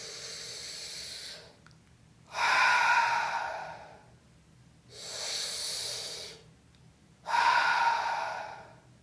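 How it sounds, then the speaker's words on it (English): Slow, very deep breathing up close: long airy inhales and exhales alternate, four drawn-out breaths with short pauses between them. "breathe very, very, very deeply"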